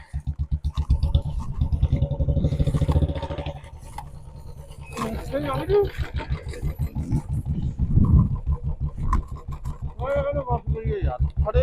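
A Bullet motorcycle engine idles with a steady low thumping beat for the first few seconds, then continues more faintly under nearby talking in a rural farm-field setting.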